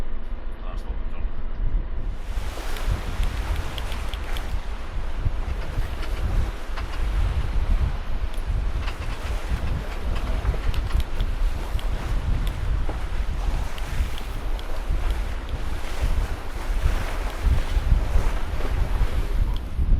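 A sailing yacht motoring under engine along the Sound of Mull in winter wind, with a constant low engine drone under heavy wind buffeting on the microphone and rushing water, loud and continuous throughout.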